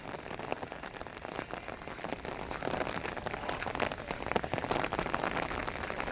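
Steady rain in Punjab patters on a hard surface, a dense, even hiss of drops with no voices.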